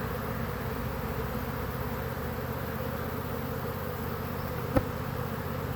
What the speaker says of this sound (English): A lot of bees here.